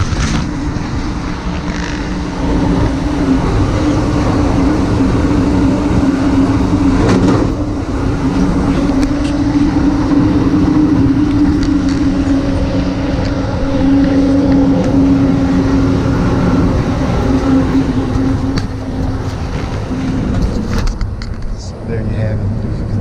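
A moving passenger train roars loudly in the gap between cars, a steady rumble and rattle of wheels and couplings that runs on without a break, with faint voices now and then under the din.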